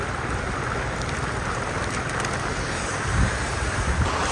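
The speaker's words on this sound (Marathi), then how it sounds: "पाऊस पडतोय" Steady rain falls outdoors at a roadside tea stop near Karnala, a continuous broadband hiss with some wind noise over the microphone and a faint low rumble.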